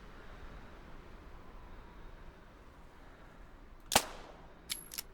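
A single 17 HMR rifle shot rings out in theHunter 2017, a sharp close crack followed by a brief tail, with a fainter second report or echo just after, over quiet outdoor ambience.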